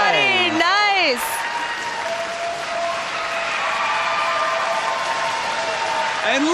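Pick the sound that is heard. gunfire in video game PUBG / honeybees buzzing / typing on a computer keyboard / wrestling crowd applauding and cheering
wrestling crowd applauding and cheering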